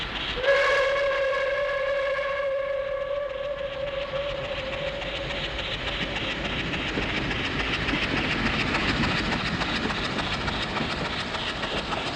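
A guarantee freight train, number 49281, rushes past a rail line near Kraski, opening with a loud whistle blast and then a steady, close rumble with rhythmic wheel clatter for the whole stretch, no voices.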